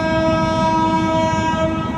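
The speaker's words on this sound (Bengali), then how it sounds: "ওই ট্রেন আসতেছে, আবার একটা ট্রেন আসতেছে" A train passes close by, a steady loud rumble with a sustained horn tone running throughout, no voices over it.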